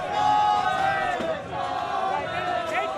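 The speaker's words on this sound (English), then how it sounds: "as you hear the crowd behind us" Cornell fans roar and cheer from the stands at a Lehigh versus Cornell college wrestling match, a loud sustained crowd swelling and dipping behind the action.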